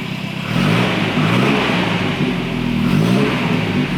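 A 1985 UK-market Volvo 240 engine revs up and holds a steady, throaty drone close by, rising in pitch a couple of times, with no voices.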